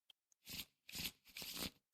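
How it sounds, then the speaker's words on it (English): Cards for the Arkham Horror living card game being shuffled in three quick riffling bursts, close and moderately loud, with short pauses between them and no talking. "I'm going to shuffle, take top on each of them."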